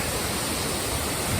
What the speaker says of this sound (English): The water is splashing and creating a spray out here.